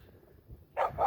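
One or two short, faint dog barks at the very end after near silence, from a dog out in remote Nevada desert country.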